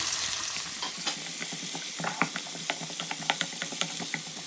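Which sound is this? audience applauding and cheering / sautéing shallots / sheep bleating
sautéing shallots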